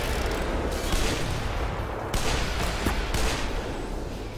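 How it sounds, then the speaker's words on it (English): Explosive bombing in the video game Black Mesa, a continuous barrage of booming blasts and rumbling gunfire-like bursts, loud and dense throughout with several sharp surges. "So as you can hear, we're getting bombed."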